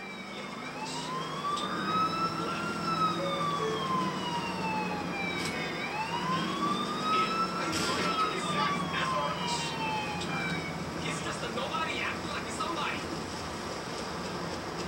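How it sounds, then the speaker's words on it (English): A video game police car siren wails, rising and falling in long sweeps, steady and fairly close, while people talk over it and traffic noise sits beneath. "Out the way, please! It's a police car!"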